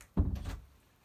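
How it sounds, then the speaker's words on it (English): A door swings shut indoors with a single soft thud and a brief low rumble that fades within half a second, heard alone in a quiet room. "let me close this door"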